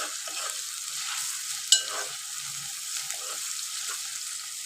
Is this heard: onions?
yes